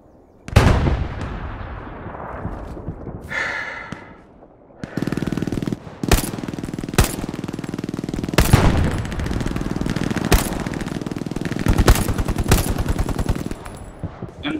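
Machine gun fire in the WWII shooter Hell Let Loose, in loud repeated bursts of rapid shots with sharp cracks and booming impacts, close and continuous across the battle with no talking.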